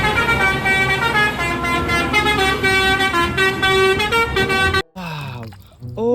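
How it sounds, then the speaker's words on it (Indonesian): A toy bus with a telolet horn plays a loud, continuous melodic tune of repeating tones for about five seconds, then cuts off abruptly and a nearby voice talks over faint background. "Kita punya bus telolet."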